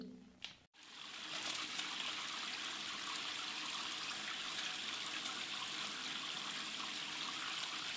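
Shower running at reduced flow in a home setup for two-person showers, water hissing and splashing steadily after a brief click and pause at the start, close and continuous.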